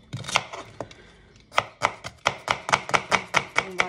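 A knife finely chops onion on a board, starting with a few scattered cuts and then settling into a fast, even run of sharp close taps, with no voices.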